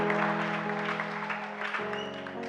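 A church congregation claps for a newly consecrated bishop at his consecration service, with steady, full-room applause running beneath sustained keyboard or organ chords that shift pitch near the end.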